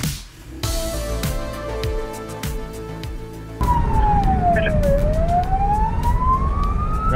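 A New Zealand police car from Mount Wellington rumbles along, then its siren cuts in loud and close, wailing in a long falling and rising sweep over the engine and road noise.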